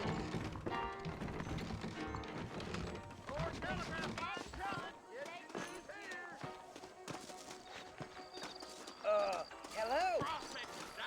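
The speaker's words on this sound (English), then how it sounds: "I got the horses saddled up and ready out front." Horse hooves clip-clop in the Western video game Red Dead Redemption, a steady run of hoof beats with creaks and mechanical clicks, mixed with game music and a talking voice.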